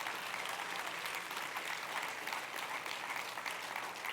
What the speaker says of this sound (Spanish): ese aplauso, déselo para Él